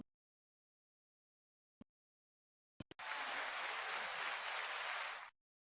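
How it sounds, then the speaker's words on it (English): After near silence broken by a few isolated clicks, a burst of audience applause starts abruptly and runs steadily for a couple of seconds before cutting off just as suddenly. "There was supposed to be some clapping there."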